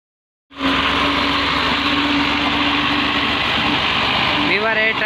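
A tractor's diesel engine starts and runs steadily with a low, chugging rumble close by in a village in Pakistan; a voice speaks briefly near the end.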